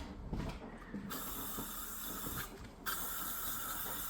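Aerosol spray aimed at a spider, two long hissing bursts of the can, close and fairly loud, separated by short pauses and quieter handling noises.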